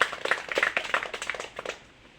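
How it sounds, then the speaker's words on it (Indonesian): A group of children clap their hands in a quick burst of irregular claps that fades out within about two seconds. "Tepuk tangan dulu."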